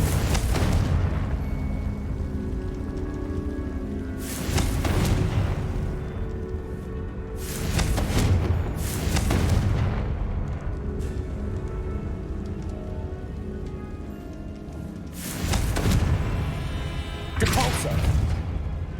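Confringo explosive spell blasts in the video game Hogwarts Legacy: five or six loud, sharp, bursting blasts spaced unevenly over a continuous hissing, rain-like bed of game noise.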